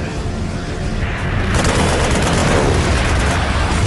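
Gunfire from a World War 2 movie scene booms heavily and continuously, a dense, loud rumble of blasts that swells stronger after the first second and a half, with no voices over it.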